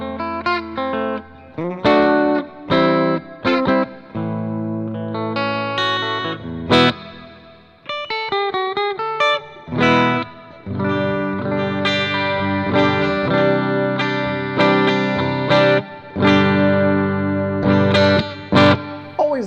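Electric guitar through the LEKATO Tank G multi-effect pedal on a clean amp setting, close and fairly loud, with strummed chords and picked notes ringing out in phrases separated by short pauses.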